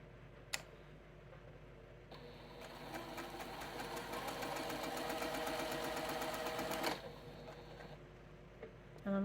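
A sewing machine stitches a friendship star quilt block seam, a close, rapid mechanical whirring and ticking that runs for about five seconds with a click at the start and a thump after it stops.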